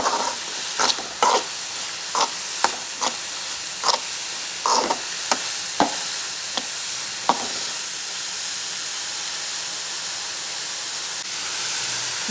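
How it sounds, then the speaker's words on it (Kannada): Vegetables fry steadily in a pan for masala pasta, a continuous sizzle broken by repeated scraping stirs of a spatula, close and loud with no voices. "ಸೊ ಅದಕ್ಕೆ ಸ್ವಲ್ಪ ಬೇಗ ಹಾಕ್ಕೊಂಡು ಚೆನ್ನಾಗಿ ಫ್ರೈ ಮಾಡ್ಕೊತಿದ್ದೀನಿ."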